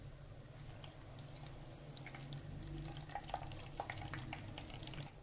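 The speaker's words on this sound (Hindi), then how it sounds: "हमने अपनी पूड़ी को फ्राई कर लिया है और अब हम इसे भी निकाल लेंगे" Puris deep-frying in hot oil for halwa puri, a steady sizzling hiss with a low rumble beneath and a few small crackles and pops near the end, continuous and fairly close.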